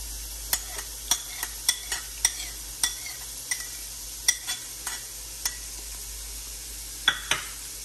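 Garlic sizzles in a hot pan while a utensil stirs it, with sharp scraping clicks recurring every half second or so over a steady frying hiss, close and clear, no voices.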